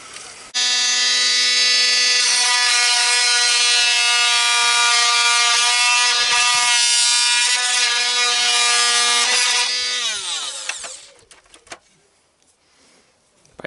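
A power tool fitted with a long blade cuts steadily through a custom Ford Ranger grille. It makes a loud, continuous high whine with strong harmonic tones for about ten seconds, then slows down and stops.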